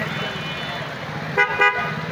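Traffic noise with cars driving through a flooded street and two short horn toots, steady road rumble throughout, with voices faintly in the background.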